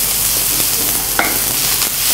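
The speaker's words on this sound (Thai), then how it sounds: "คั่วคลุกข้าวให้มันหอม" Rice and ingredients being tossed and stir-fried in a pan, giving a steady loud sizzle with a couple of brief scrapes and clinks from stirring, close by and with no one speaking.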